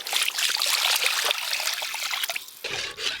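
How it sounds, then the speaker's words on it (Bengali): Water pours steadily into a kadai holding a tamarind-style sour broth with turmeric and salt for a taki-fish curry, a close, continuous trickling splash that thins out near the end. "এবার জল দিয়ে দেব।"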